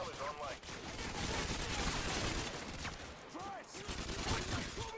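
Call of Duty: Modern Warfare 2 gunfire, rapid automatic bursts crackling continuously alongside the game's action sounds, fairly loud, while a player talks over it.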